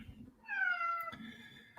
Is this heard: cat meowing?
yes